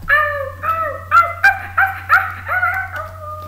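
A puppy howls and whimpers close up in a windy outdoor spot, a series of about eight short, rising and falling yelping cries in quick succession.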